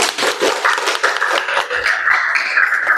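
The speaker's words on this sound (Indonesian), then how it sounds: "Oke, tepuk tangan untuk Akbar." A seventh-grade science class claps for a student, a dense burst of many hands patting rapidly and unevenly for a few seconds, close and fairly loud, with faint voices mixed in.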